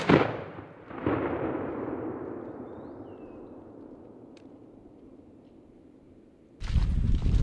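A single loud shotgun blast on a spring turkey hunt in Mississippi, followed by a long fading outdoor echo, then a second sharp noisy burst near the end.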